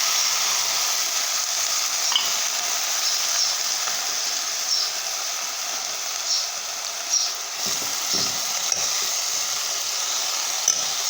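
Methi (fenugreek) leaves and moong dal being stirred in a pan with a spoon, a steady sizzling scrape that goes on for the whole stretch, with a few soft clinks and no talking.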